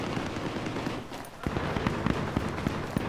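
Gunfire in Battlefield 3 comes as a string of sharp single shots and cracks, spaced irregularly over a dense, noisy backdrop of game ambience.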